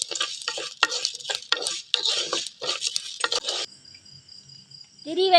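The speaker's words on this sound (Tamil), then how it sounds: "இஞ்சி பச்சை வாசம் போடுற அளவுக்கு நல்லா வணக்கி போடணும்." Ginger being stirred and sautéed in a pan for pirandai thuvaiyal, a spoon scraping and clattering in quick bursts with a light sizzle, then a quieter stretch before more stirring.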